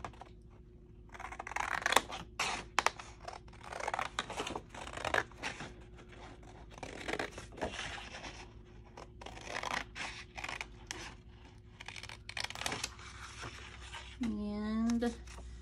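Scissors cut out a paper bike tag at close range, a series of irregular snips and paper rustles, with a brief voice toward the end.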